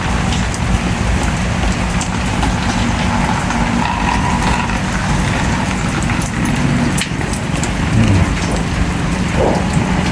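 Heavy rain pours steadily and loudly throughout, a dense continuous roar of falling water with no voices.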